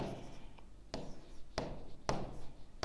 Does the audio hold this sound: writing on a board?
yes